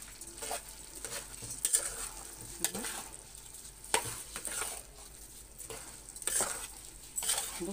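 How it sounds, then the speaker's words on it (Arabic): Rice and fresh vegetable stuffing for stuffed cabbage is stirred in a pan, a soft sizzle underneath with repeated scraping strokes and light clinks of a spoon, close and steady. "ونقلب بقى المحشي بتاعنا"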